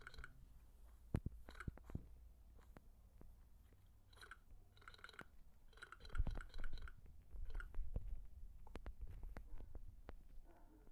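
Cake being eaten in a video game during hide-and-seek on a homemade map: a faint series of repeated crunchy chewing bites, irregular and close, with no talk over them.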